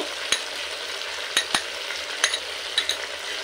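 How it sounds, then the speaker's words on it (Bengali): Ground spices being stirred and fried in a pan for a Bengali potato shrimp kosha, a steady sizzle broken by several sharp scrapes of the spoon against the pan, with no talking. "এই সমস্ত মশলা নাড়াচাড়া করে আবারও 2 মিনিট খুব ভালোভাবে কষিয়ে নেব।"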